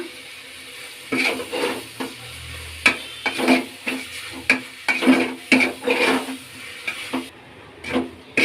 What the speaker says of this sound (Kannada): ಈಗ ಮಿಕ್ಸ್ ಮಾಡೋಣ